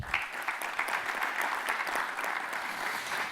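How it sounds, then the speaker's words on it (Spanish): Audience applause fills a hall at a pension debate, steady, dense clapping from many hands that holds at an even level throughout, with no voices over it. "a quien le pido un aplauso también"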